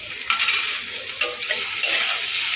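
Green chilies go into a pan of bitter gourd frying in a little oil, with a steady hiss of sizzling and a few light clinks of the spatula as everything is stirred.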